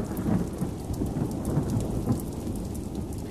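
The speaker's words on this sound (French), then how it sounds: "nous rejoignons l'embarcadère sous un orage et une pluie battante" Heavy rain pours steadily while thunder rumbles low, close and continuous, with no voices, at a boat landing in Venice.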